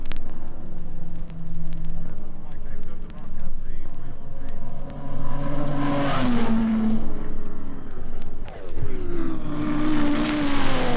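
Race cars, among them Ferrari and Aston Martin, tear past at the 1956 Sebring endurance race, engines rising and falling as each one passes by, under a commentator's steady narration.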